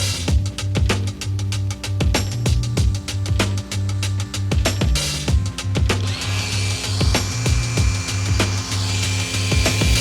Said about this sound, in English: I didn't realize like weeding can be so fun. With a chainsaw.